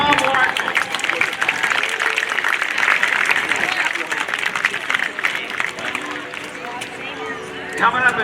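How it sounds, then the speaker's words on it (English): A crowd at the 2024 MCAS Cherry Point air show claps in a dense, steady wash of applause, with an announcer's voice over the top. "How about a big round of applause for Tom Larkin?"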